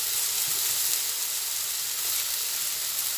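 Steady, close sizzling of chicken frying in a pan with ginger and ground black pepper, a dense continuous hiss with no talk.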